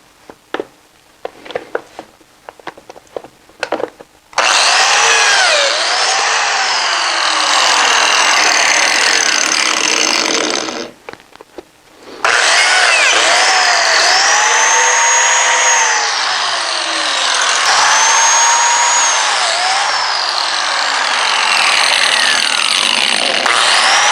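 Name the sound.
biscuit joiner cutting slots in wood for a miter saw station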